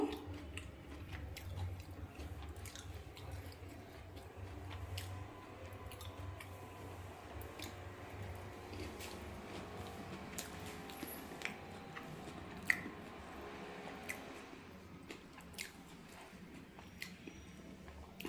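Someone eats a Mysore bonda dipped in coriander chutney, with soft, close, moist chewing and squishy bites going on steadily at low volume.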